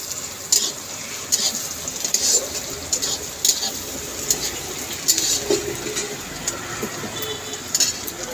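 Onions browning with black cumin seeds in a hot pan: a continuous near sizzle broken by frequent metallic scrapes and clinks of a spoon stirring.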